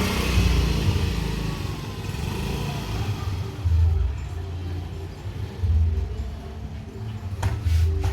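A Yamaha motorcycle engine runs on a test drive, a steady mid-distance putter with a few throttle swells and revs rising and falling over several seconds, no voices over it.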